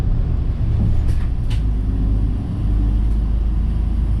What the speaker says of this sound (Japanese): バスに乗車しました。